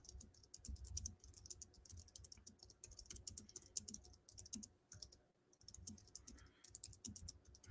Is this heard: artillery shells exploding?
no